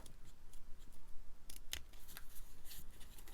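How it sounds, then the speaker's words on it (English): Small craft scissors snip through paper in a quiet room, a series of soft, irregular crisp cuts with one sharper click midway. "what I'm then going to do is take these scissors"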